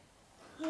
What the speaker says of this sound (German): Das ist eine Eule.